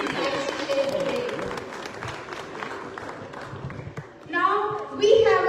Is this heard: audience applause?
yes